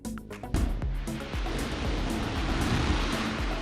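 Water churns and splashes as an Orion crew capsule drops into a test pool for a splashdown trial. A steady, loud, rushing wash of surf-like noise follows an initial impact, with no talking.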